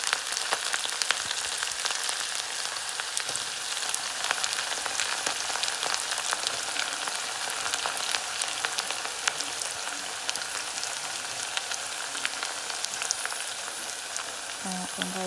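Onions frying in oil in a second pan for chicken fried rice, a steady hissing crackle like light rain, fairly faint and even throughout, with no one speaking.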